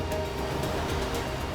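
Gentle beach surf in a Final Fantasy XIV seaside zone with tents, a steady soft wash of waves over a faint tonal game ambience, continuous and fairly quiet.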